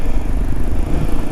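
A Kawasaki Ninja 250 SL single-cylinder motorcycle engine with a stock exhaust runs with a rough, coarse tone, giving a loud, continuous low rumble that stays close and steady with no talking.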